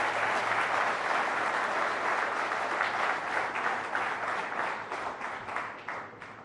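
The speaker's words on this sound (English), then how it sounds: "Please give him a round of applause." A large summit audience gives the Prime Minister a long round of applause, dense and continuous clapping that tapers slightly toward the end.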